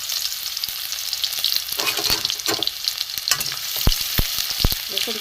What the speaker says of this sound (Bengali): এতে আমি রসুন কুচি দিয়ে দেবো।